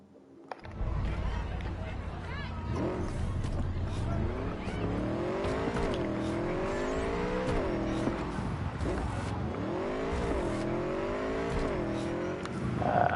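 Motorcycle engine revving in the Cyberpunk video game, a sustained throttle roar with rising and falling pitch sweeps as the bike accelerates, loud and continuous throughout, with a player talking over it.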